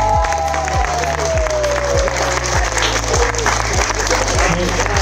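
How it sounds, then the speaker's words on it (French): Loud, sustained applause from a crowd fills the whole stretch, a dense continuous clapping with a voice talking over it. "Je vous demande s'il vous plaît un tonnerre d'applaudissements"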